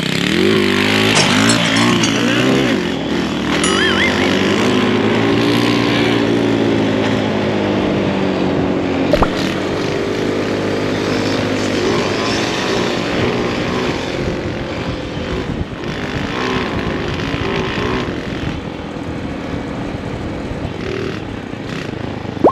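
A Honda Wave 100 motorcycle with an aftermarket exhaust revs hard while doing wheelies. Its engine note buzzes up and down continuously for over twenty seconds, fairly close, with some outdoor noise around it.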